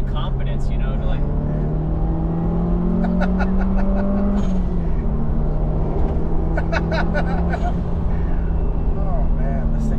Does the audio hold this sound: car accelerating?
yes